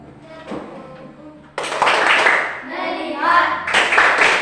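A classroom group of children plays the "tepuk konsentrasi" clapping game, their hands striking together in loud, busy rhythmic bursts, with young voices mixed in close by.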